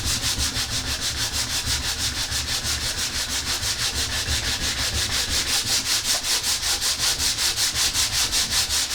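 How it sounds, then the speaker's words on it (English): Sandpaper rubs back and forth over filler on the hard standing of a model railway layout, a rapid, even rasping rhythm of short strokes, close and steady without talk. "I need to just sand these down."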